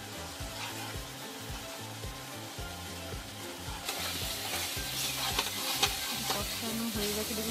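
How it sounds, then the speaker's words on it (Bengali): Potato masala for dum aloo fries and bubbles in a pan as hot water is added and a spoon scrapes and stirs in a steady rhythm, the sizzle swelling louder halfway through, with no voices. "আমি এর মধ্যে অল্প অল্প করে গরম জল আমি অ্যাড করতে থাকি"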